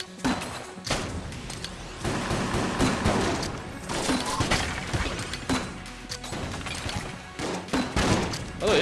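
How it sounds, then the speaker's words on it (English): Rapid grenade launcher shots and repeated explosions in the video game Enter the Gungeon, a dense barrage of thumps, bursts and crashes over a busy game soundtrack. "this is a grenade launcher I'm using, and this is how not good it is"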